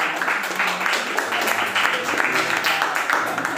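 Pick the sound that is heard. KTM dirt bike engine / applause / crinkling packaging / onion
applause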